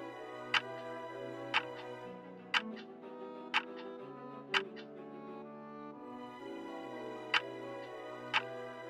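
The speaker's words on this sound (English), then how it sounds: "Number two, it's the ticking of the clock." A clock ticks in sharp, evenly spaced clicks about once a second, quiet over a soft, steady tonal background.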